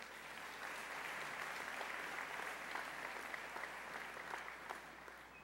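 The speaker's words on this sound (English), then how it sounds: "Give yourself another round of applause." Dense, even audience applause at a 2015 commencement ceremony, a steady wash of many hands clapping at a distance, faint and sustained throughout with no voices on top.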